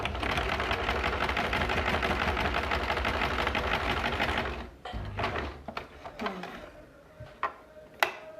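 A sewing machine stitches a cloth face mask in one long, steady mechanical whir, then stops, followed by scattered handling clicks and fabric rustles up close.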